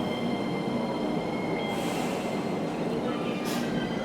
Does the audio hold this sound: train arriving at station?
yes